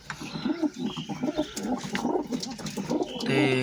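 Pigeons coo in soft, rolling repeated calls, several birds overlapping close by with a steady murmur behind them.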